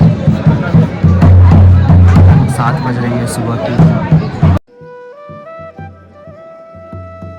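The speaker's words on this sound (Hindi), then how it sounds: "आप लोग को दिखाते हैं यहाँ कितनी ज़्यादा भीड़ अभी भी है" A dense crowd of pilgrims murmurs and bustles at Gangotri temple, a loud close babble under someone speaking for several seconds before the scene cuts abruptly to music.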